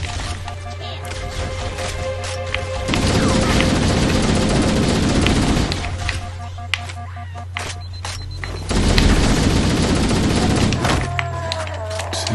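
Gunfire in the Halo: Combat Evolved remake, two sustained stretches of rapid shooting with quieter game sounds in between, loud and close, with speech in the background.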